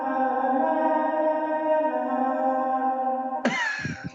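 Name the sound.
played recording of a child singing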